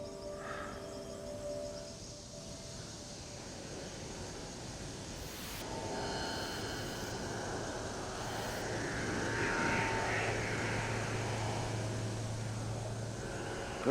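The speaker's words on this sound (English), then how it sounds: "Suddenly, this airplane flew out over the top of us, quite high" An airplane passes high overhead in a cold, remote outdoor setting, a faint, broad engine drone that swells slightly toward the end with no voices.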